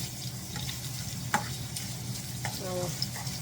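Andouille sausage sizzles steadily in a skillet, with a few sharp scraping clinks and stirring knocks as the pieces are tossed, close and moderately loud.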